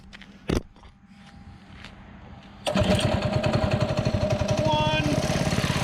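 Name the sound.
mini bike engine pull-started and idling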